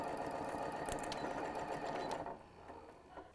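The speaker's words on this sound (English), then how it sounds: "So I'm starting on the other side of that pin and just backstitch." A sewing machine backstitches fabric while a scrappy pouch is sewn, giving a steady fast mechanical whir up close that eases off toward the end, with no voices.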